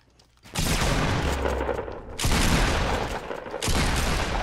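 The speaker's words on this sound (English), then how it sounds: "he's shooting at us from below you" Gunfire in the Fortnite video game: sustained bursts of rapid shooting, loud and close, cut into three long volleys separated by brief gaps.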